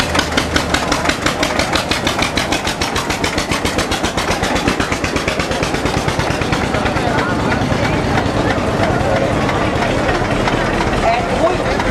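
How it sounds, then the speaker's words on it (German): A vintage tractor at an oldtimer meeting, its engine running close and loud with a steady, rapid pulsing beat, while a voice talks over it. "Der nächste Traktor kommt auch von Blindenmarkt."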